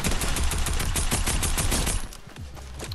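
Gunfire in the Fortnite video game cracks out as a rapid, dense burst of loud shots for about two seconds, then eases to a few scattered, quieter reports.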